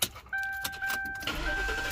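A car engine cranks and catches around the middle, then settles into a steady idle with a sustained high tone over it, close by. The car is being worked on for a P0456 code repair and reset.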